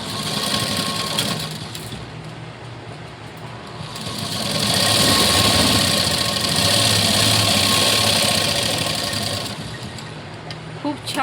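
A sewing machine runs steadily while stitching a folded strip along the edge of a blouse, a continuous whirring drone that swells louder in the middle, with a voice talking over it.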